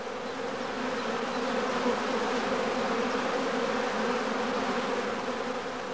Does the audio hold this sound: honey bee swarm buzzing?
yes